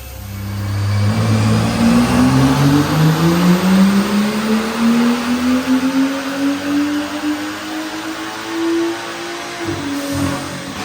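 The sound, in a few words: BMW F10 535i N55 engine revving on a dyno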